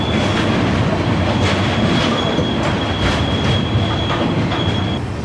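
A passenger train runs steadily on the line from Tenali toward Haridwar, a loud continuous rumble of wheels and coaches with a thin sustained squeal and rhythmic clatter throughout.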